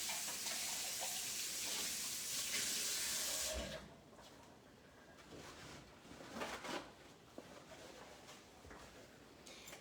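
Running tap water splashing loudly into a bowl used for milks in a kitchen sink, then cutting off to quieter handling clinks and faint dripping.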